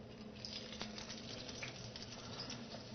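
Vegan Hanukkah batter frying in a pan, a soft continuous sizzle with fine crackling patter, faint and steady, under a low background hum.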